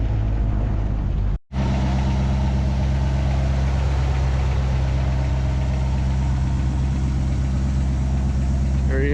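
A vintage Chevy C10 truck that sat unused for decades runs with a loud, steady, close-up engine drone; a brief cut near the start drops to silence before the idle resumes evenly.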